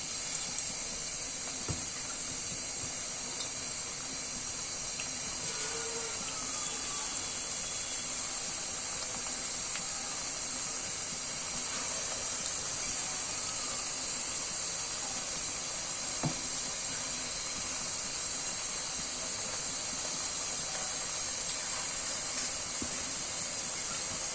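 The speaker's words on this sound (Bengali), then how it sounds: "তেলটাও প্রায় গরম হয়ে গিয়েছে এখন এক এক করে দিয়ে দিচ্ছি" Winter-vegetable pakoras fry in hot oil with a continuous, even hiss, and faint pops and crackles break through now and then. The sound stays close and steady, with no talking.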